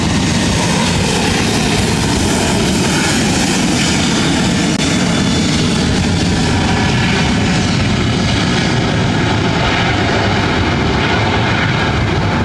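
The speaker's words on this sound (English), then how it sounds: "This is Southwest Airlines 2979 taking off to Denver on the 737-700." A Southwest Airlines Boeing 737-700 bound for Denver takes off from LAX, its jet engines giving a loud, continuous broadband roar that holds steady throughout, with no voices over it.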